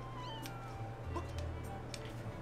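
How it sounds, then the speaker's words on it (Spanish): A cat meows several times in The Legend of Zelda: Skyward Sword, short rising and falling cries sitting over quiet game music and ambience. "El gato tiene hambre."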